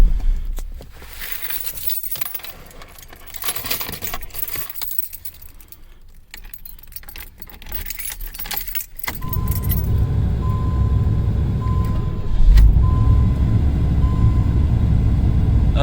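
Keys jangle close by for several seconds, then a Pontiac Fiero's engine turns over and settles into a steady, loud idle rumble after refueling at a gas station.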